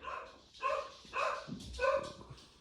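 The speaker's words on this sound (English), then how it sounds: "Let's just fucking wait for the dog to stop fucking barking." A dog barks several times in a steady rhythm, a little distant, with nothing else around it.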